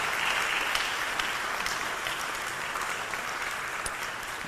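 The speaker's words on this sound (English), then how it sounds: "Now you may applaud" An audience at a county candidate forum on housing breaks into sustained applause, a dense, even wash of clapping that holds steady throughout without fading.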